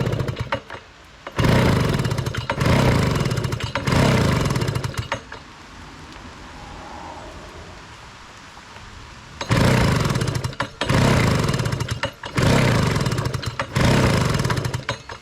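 A late-1990s Honda Harmony lawn mower engine runs in loud, rough bursts while its idle is adjusted, dropping to a quieter, lower running sound midway before surging up again.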